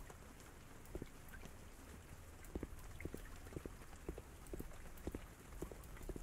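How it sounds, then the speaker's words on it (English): Rain falls in the video game Denizen, a soft steady patter with scattered louder drops tapping a surface, quiet and even throughout. "Is it raining?"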